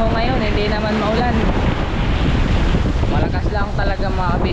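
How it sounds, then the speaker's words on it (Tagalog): Strong wind roars across the microphone aboard a fishing boat on the open Pacific, steady and loud throughout, with choppy water and surf churning underneath and a faint voice briefly audible. "Malakas lang talaga mga kabisig ng hangin."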